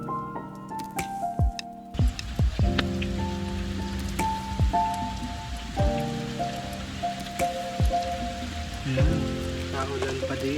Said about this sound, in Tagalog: Naulan pa din.